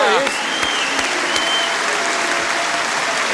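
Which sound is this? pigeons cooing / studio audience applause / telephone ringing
studio audience applause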